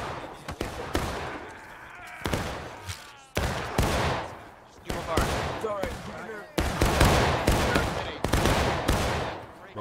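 Musket fire in the Civil War game War of Rights, loud uneven shots and crackling bursts ringing out one after another in a scattered barrage, with voices talking and shouting among them.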